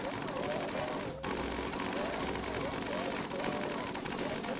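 Automated turrets in the RimWorld video game open fire in a continuous, dense barrage of rapid game gunfire, loud and steady throughout with a brief dip near the start.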